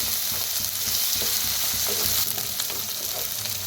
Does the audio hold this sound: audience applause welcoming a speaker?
no